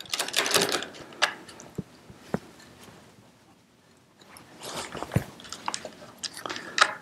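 A nut being loosened and removed from a bolt on a chair harness strap, heard as close, faint clicks, scrapes and metallic ticks in irregular clusters with a quiet gap in the middle.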